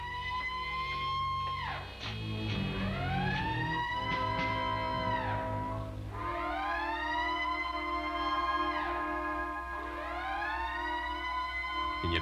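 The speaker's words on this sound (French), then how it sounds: "Le signal d'alarme. Le réacteur doit être défectueux." An alarm signal warns of a faulty reactor with a loud, continuous wailing siren that sweeps repeatedly down and back up in pitch over a steady low drone, with no speech.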